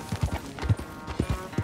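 Horse hooves clip-clop at a steady walking rhythm on a ranch in the video game Red Dead Redemption 2, with a series of moderately loud, evenly spaced footfalls and no talk.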